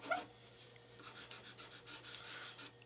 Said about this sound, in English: Sometimes I don't like working with white charcoal too because of that scratchy noise.